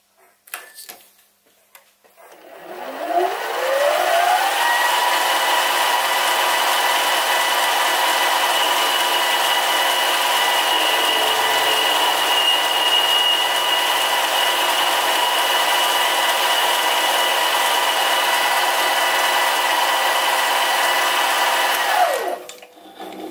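A mini lathe spins up to a steady, loud whine and a cutting tool works a chamfer onto a metal screw for about twenty seconds before the motor winds down, with no speech.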